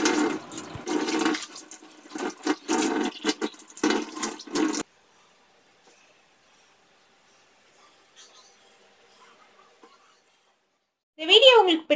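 Water splashes loudly in close, uneven bursts while a kitchen sink and tiles are washed, then it falls nearly silent before a short final gush.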